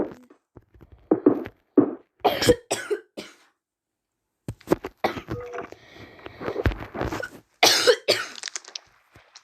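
Repeated harsh coughs in scattered bursts, close and loud, with short silent gaps and a throat-clearing rasp between them.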